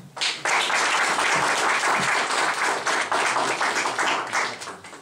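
A large audience at a French political rally applauds loudly and steadily, the clapping dense and sustained after a brief start and easing slightly toward the end.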